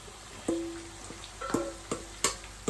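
Saltfish frying in green seasoning for Jamaican ackee and saltfish, a quiet, soft sizzle broken by several sharp clinks and scrapes of a utensil against the pan at irregular intervals.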